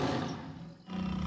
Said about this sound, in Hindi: ये तो शेर है।